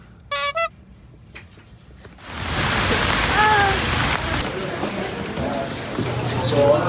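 Rain pours steadily onto a city street in the evening, a dense hiss rising in loudness after a brief quiet start, with faint traffic and a short car horn toot near the beginning.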